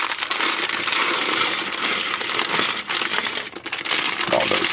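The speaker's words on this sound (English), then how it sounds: "Let's open this bag up." A plastic bag of LEGO Bionicle parts being torn open and shaken, loud close crinkling with small plastic pieces rattling and clattering against each other.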